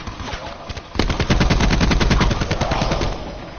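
Rapid automatic gunfire from a firefight in the battle-royale video game Call of Duty Blackout, a dense, sustained burst of shots that starts abruptly after a second of quieter ambience and holds loud to the end, with no talk.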